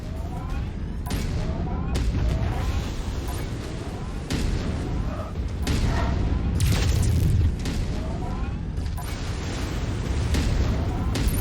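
Repeated heavy booms of targets blowing up in a combat video game, rolling one after another over a dense, rumbling din of battle, loud and close throughout.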